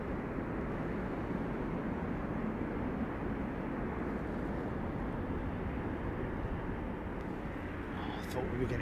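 An airliner approaching to land at London Heathrow Airport in strong wind, a broad continuous roar of engines mixed with heavy wind buffeting on the microphone, loud and sustained across the whole stretch.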